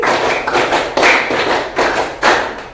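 An eighth-grade class in Indonesia claps in a counted rhythm pattern, several sharp bursts of loud, close claps separated by brief pauses, with no talking.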